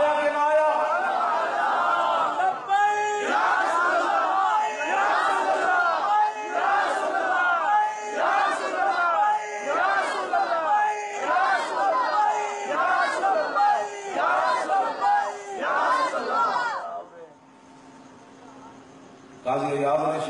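A large crowd at a religious conference chants Labbaik slogans in loud, rhythmic unison, repeated call-like bursts filling the space for about seventeen seconds before dropping away to near quiet.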